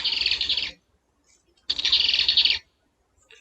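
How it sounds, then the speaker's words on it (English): A hummingbird gives two bursts of rapid, high buzzy chirping, each about a second long, close and clear with silence between them and a faint start of a third at the end. "The guy likes to drink nectar. A hummingbird, yes."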